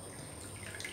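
Water is poured into a pot of roasted lentils for a vegetable dal, giving a soft, steady splashing and trickling that stays fairly faint and close, with no talk over it.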